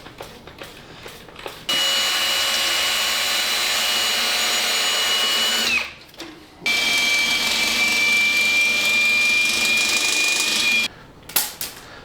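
Power drill whirring with a cleaning attachment spinning inside a Jeep axle, two sustained high-pitched runs of several seconds each separated by a brief pause, close and loud, with short rattles before and after.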